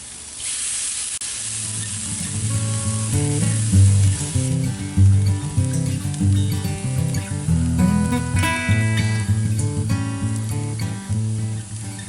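Bamboo shrimp skewers sizzle steadily on a hot grill, a continuous loud hiss of frying under a bed of background music.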